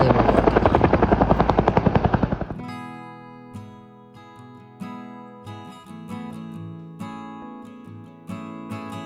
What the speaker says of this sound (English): the helicopter was flying in buckets of concrete for a new project